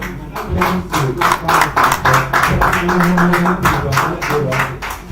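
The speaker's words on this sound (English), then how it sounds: "Please a round of applause for Mr. Emmanuel Ochi." Audience applause following a speech at an aviation school alumni reunion event, a sustained crowd patter throughout, with a voice talking over the clapping.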